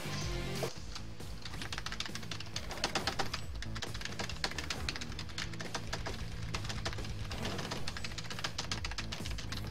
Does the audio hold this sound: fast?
yes